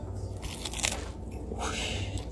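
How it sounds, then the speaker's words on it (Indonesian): Emping crackers crunch loudly as they are bitten and chewed, a few close, crackling bites with brittle snaps. "Kedengeran enggak sih kriuk-kriuknya?"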